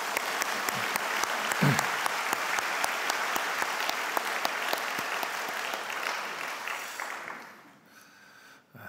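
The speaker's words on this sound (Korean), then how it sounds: "그 모든 분들에게 다시 한번 감사의 박수를 올리겠습니다." A church congregation gives sustained applause of thanks, dense and steady for about seven seconds, with a few sharper claps standing out, before fading out near the end.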